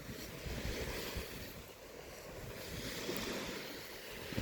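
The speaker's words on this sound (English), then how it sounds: "The sea's come in so far" Sea waves wash onto a beach at high tide, a faint, continuous surf hiss rising and falling gently, mixed with wind buffeting the microphone.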